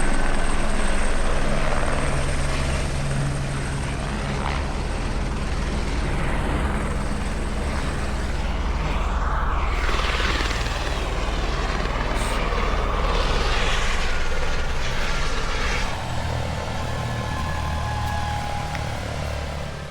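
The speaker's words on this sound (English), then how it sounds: "a helicopter not only showed up, but landed right in front of us" Helicopter flying in and landing close by on a hiking track in the Earnslaw Burn area, a loud continuous rotor thump and engine roar that holds steady and nearby for the whole stretch, with no talking.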